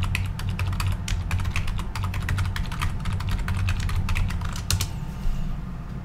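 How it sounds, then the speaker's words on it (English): Fast, uneven typing on a computer keyboard, with close, crisp key clicks in bursts over a steady low hum, slowing toward the end. "We're just gonna have to trust my typing."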